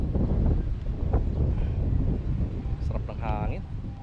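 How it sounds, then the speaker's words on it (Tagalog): Gusty wind buffets the microphone outdoors on a farm, a steady low rumble throughout with a voice briefly speaking near the end. "Sarap ng hangin."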